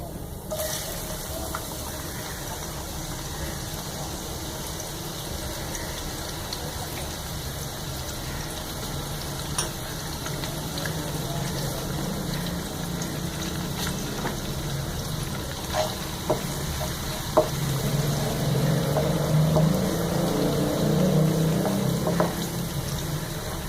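Onions are added to hot oil in a kadhai for Punjabi kadhi pakora, and the steady, moderate sizzle grows slightly louder and fuller toward the end, with occasional light clicks.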